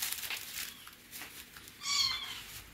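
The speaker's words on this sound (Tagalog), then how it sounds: "Yung pusa, maingay pa din." A faint, short cat meow rises once near the end over quiet background noise, with softer rustling earlier.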